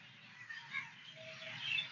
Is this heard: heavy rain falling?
no